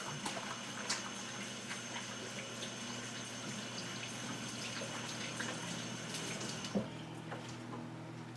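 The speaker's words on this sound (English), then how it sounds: "I'm going to wash my hands while that's melting" Tap water running steadily into a sink during hand washing in a home kitchen, a constant close hiss with faint splashes, briefly interrupted near the end.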